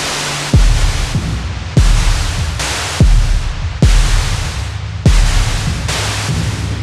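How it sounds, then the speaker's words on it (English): A synthesizer playing a white noise build-up with its decay set to maximum, loud broadband hiss swelling in repeated pulses about every 1.2 seconds, each starting with a sharp low thump and a sustained wash trailing off. "kind of like a white noise sort of build up. So bringing the decay up to maximum"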